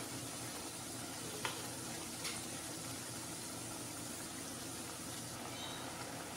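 Gram flour boondi for motichoor laddu fry in hot oil with a faint, steady bubbling sizzle, a couple of small clicks breaking through the continuous low hiss.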